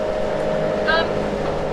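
A steady low motorboat engine that will not switch off drones throughout, with a brief faint tonal whine partway through.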